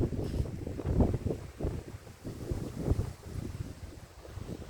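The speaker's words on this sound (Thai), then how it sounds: "ลมก็แรง" Strong wind blows outdoors in Spain near leafy trees, heavy gusty buffeting that roars across the microphone in uneven surges with no pause.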